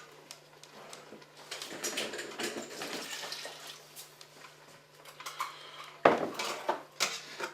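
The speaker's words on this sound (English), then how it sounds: "I'm going to stir this tomato sauce around a little bit" A spoon scraping and clinking against a pot while tomato sauce is stirred, with irregular metallic knocks and scrapes close by, a sharper clank near the end, over a faint steady hum.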